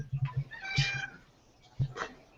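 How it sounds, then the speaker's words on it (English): A pet cat named Callie meows a few times, close and fairly loud, with short chirping cries and one longer drawn-out meow, with a brief low voice in the background. "I hear a kitty."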